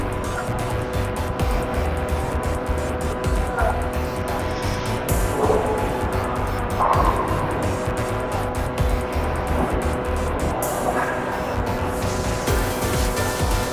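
An RPX2 radio-controlled car drives and accelerates on a fresh setup: a steady, loud, high motor whine with rising and falling revs that runs continuously through the whole stretch, with no voices.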